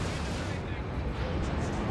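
D cannon firing in Dawn of War 2, a dense rumbling barrage of heavy artillery blasts under continuous talk.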